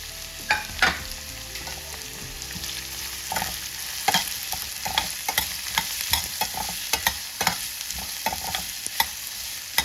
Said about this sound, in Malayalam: നമുക്ക് വെളുത്തുള്ളിയും സവാളയും കറിവേപ്പിലയും കൂടി ഇട്ട് നന്നായിട്ട് വാട്ടിയിടുക